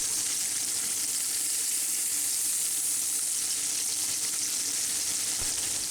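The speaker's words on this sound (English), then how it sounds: "We sear the sides at least once and start using a probe thermometer to keep track of the temperature." Pork chops sear in a cast iron pan with a dense, constant, hissing sizzle, close up and unbroken throughout, with no voices.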